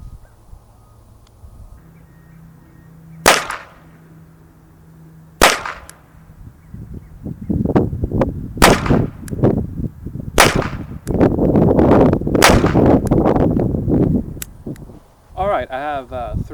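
Aguila 50-grain full metal jacket 25 ACP rounds are fired from a small pistol outdoors, several sharp, loud cracks spaced a couple of seconds apart, with someone talking between and over the shots.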